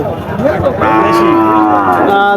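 A Deshal-breed cow lets out a loud, drawn-out moo close by amid a busy crowd at a cattle market, with people's voices murmuring in the background.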